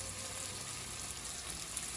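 Tomato with lupin dal cooks in a pan, giving off a quiet, even, continuous sizzle with no talk.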